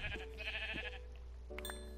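Minecraft sheep bleat in the game, a short wavering bleat followed by a second call near the end, set over steady low background game hum with no speech.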